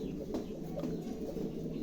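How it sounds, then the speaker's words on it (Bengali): A pair of pigeons, Andalusian and black, coos softly with low, throaty calls repeated over a couple of seconds, close and fairly quiet, with no talking. "খুবই চমৎকার এক জোড়া কবুতর"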